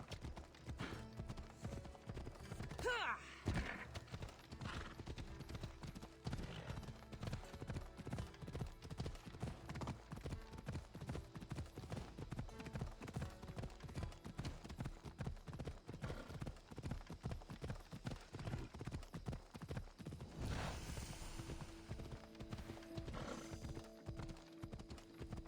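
Horse galloping in the video game Assassin's Creed Odyssey, a steady rapid clip-clop of hooves running throughout with a brief whinny near the start and a swelling rush of ambience later.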